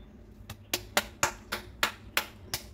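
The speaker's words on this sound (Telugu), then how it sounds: "క్లాప్స్." Hands clapping at a child's birthday, about eight sharp claps in a fairly even, brisk rhythm, close by and clear, with no voices.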